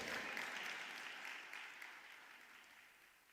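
A congregation claps together in a broad, even wash that starts strong and slowly fades. The sound is fairly quiet and distant, with no voices over it.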